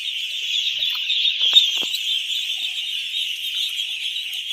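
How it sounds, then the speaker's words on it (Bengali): Ducklings eating feed on a duck farm make a dense, continuous chorus of high peeping, steady and fairly loud throughout, with a few brief louder chirps. "হাঁসের বাচ্চাগুলোকে খাবার দিতেছে, তারা কিন্তু খুব সুন্দরভাবে খাবারগুলো খাচ্ছে"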